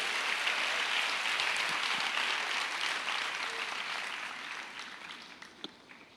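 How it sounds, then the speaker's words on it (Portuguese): A church congregation applauds during an evening worship session of a Pentecostal-style conference; dense, steady clapping fills the room and slowly thins and fades toward the end. "Você pode aplaudir a Jesus nessa noite?"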